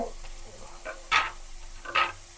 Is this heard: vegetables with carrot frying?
yes